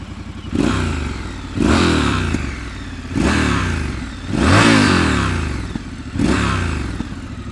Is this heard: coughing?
no